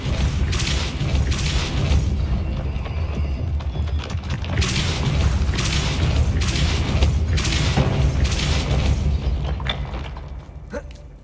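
Repeated Depulso spell blasts in Hogwarts Legacy on Xbox Series X, a series of loud booming bursts spaced a second or two apart over continuous rumbling noise.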